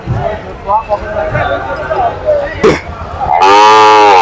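Calves moo loudly near the end, a long drawn-out bellow, after a stretch of busy crowd chatter and a sharp clatter in a noisy outdoor calf market at Barobazar, Bangladesh.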